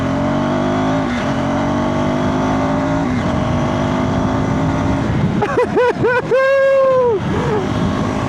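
KTM SMCR 390 supermoto accelerating hard in third gear on an expressway, its engine note climbing steadily and loud, with wind rush and a voice speaking briefly early on.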